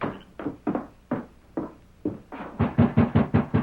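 Hard knocking on a wooden door in a radio drama, a run of separate thuds that speeds into a loud, rapid pounding at the end, with no voices.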